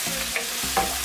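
Garlic and onion stirred in a hot frying pan while cooking salt fish: a brief oily sizzle with a couple of soft spatula scrapes, close by and with no voices.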